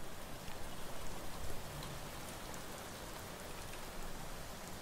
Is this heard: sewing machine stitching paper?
no